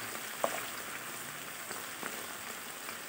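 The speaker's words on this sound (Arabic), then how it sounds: "وهنحط بقى ايه شوية بشوية من البصل علشان يتحمر معانا" Onions frying in oil until golden for one-pot koshari give off a steady, close sizzling hiss with a few sharp crackles and pops scattered through it. No voices are heard.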